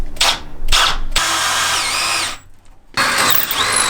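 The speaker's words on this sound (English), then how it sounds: "let's drill the holes and make this thing work." Power drill boring holes in a racecar part: two short bursts, then a sustained whining run, a pause, and a final burst, loud and close.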